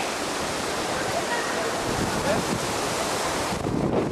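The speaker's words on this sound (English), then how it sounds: "Look at that water feature." Splashing water feature in a Tokyo garden near Nogi Shrine, a loud steady rushing and gurgling wash that is close and continuous with some wind noise on the microphone.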